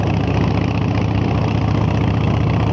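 A 2012 Harley-Davidson Dyna Wide Glide engine runs steadily in 6th gear with a deep, even rumble, loud and close, holding one pitch throughout.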